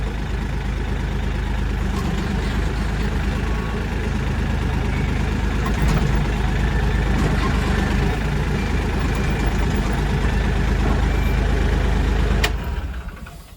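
A Kioti tractor engine runs steadily and loud at close range, a continuous low rumble with a faint uneven knocking as the rear hitch rises and jumps, then the sound cuts off abruptly near the end.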